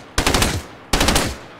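Two quick bursts of automatic gunfire in the video game Fortnite, each a rapid rattle of several shots lasting about half a second, loud and close with a short pause between them and no talk.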